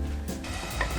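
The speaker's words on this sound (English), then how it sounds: "let the tomato sauce cook for at least 20 minutes" Tomato sauce cooks in a pan with a soft, continuous sizzle and bubbling, faint and close, with no voices.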